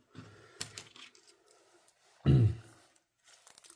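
The small scissors of a Leatherman Surge multitool are cut through paracord, making a few light snips and rustles followed by one loud, close crunch as the cord gives way, with pauses between them.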